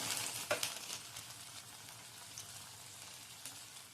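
Handvo batter roasts in a pan, a faint, steady soft sizzle with a few light clicks, close by and without talk.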